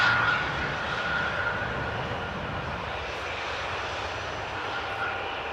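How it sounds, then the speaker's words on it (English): An Airbus A320 arriving from Valencia at Amsterdam Schiphol rumbles past with a loud, sustained engine roar and a faint whine, strongest at the start and then settling into a steady drone, no talking. "A320 that is arriving from Valencia in the foreground"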